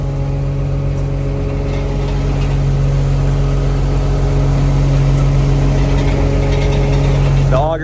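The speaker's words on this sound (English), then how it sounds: "The auger is going up and down." A 2011 Volvo PF6170 asphalt paver with a Cummins engine runs at a steady idle drone while its auger moves up and down, adding clanking mechanical rattles over the constant engine tone.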